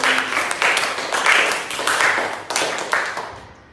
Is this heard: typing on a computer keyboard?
no